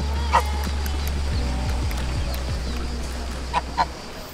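Geese honk in Villa Borghese park in Rome, a few short calls at the start and near the end, standing out over steady low rumble and outdoor background noise.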